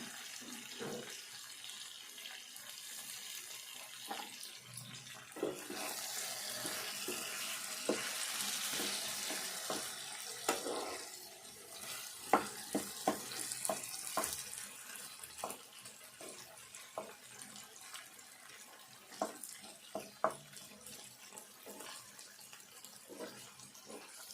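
Curry leaves crackling in hot oil for a potato and eggplant curry, a loud surge of sizzling that settles into scattered pops and spits, with occasional stirring clatter.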